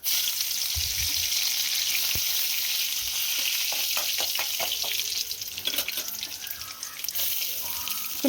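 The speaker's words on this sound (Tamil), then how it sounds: "ஒரு கடாயில் கொஞ்சோண்டு எண்ணெய், கடுகு, உளுந்து, கடலைப்பருப்பு, கொஞ்சோண்டு கருவேப்பிலை, சின்ன சின்னதாக வெட்டி வச்சுருந்த பச்சை மிளகாய் கொஞ்சோண்டு சேர்த்துக்கிறோம்." Mustard seeds, urad dal, chana dal, curry leaves and chopped green chillies sizzle loudly in a kadai of hot oil for a kara kuzhi paniyaram, a steady bright hiss broken by scattered pops and a few stirring knocks.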